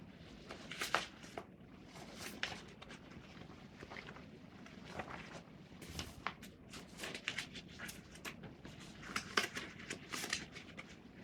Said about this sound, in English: So I'm just shuffling here.